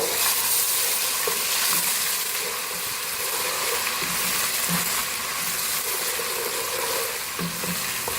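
Ingredients for beef haleem fry lightly in a pan, giving a continuous close sizzle with soft scrapes and knocks from stirring scattered through it.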